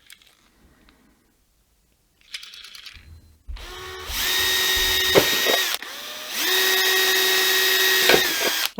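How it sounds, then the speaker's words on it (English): A power drill runs a step bit through a hole in a guitar pedal enclosure: brief whirring bursts, then two long sustained high whines with a faint ratcheting edge, loud and close with no talk. "I'm gonna widen this hole up a bit with a step bit"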